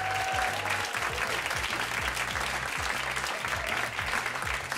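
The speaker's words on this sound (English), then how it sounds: "Give yourselves a round of applause" Studio audience at a live taping of The Brian Lehrer Show claps in a steady, dense wash of applause that holds evenly throughout, with no voices over it.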